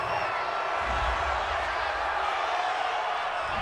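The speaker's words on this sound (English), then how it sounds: "this crowd does not like that call" A stadium crowd at a Colts versus 49ers football game reacts to a penalty call with a broad, steady roar of voices, filling the space evenly without distinct peaks.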